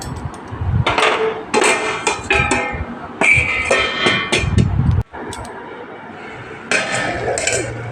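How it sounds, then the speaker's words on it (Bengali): Clattering and scraping of a spoon against a cooking pot of pumpkin curry, with several bursts of stirring and metallic clinks, a brief pause, then the knock of a lid being set on, close and fairly loud. "আবার নাড়াচাড়া করে ঢাকা দিয়ে দেবো।"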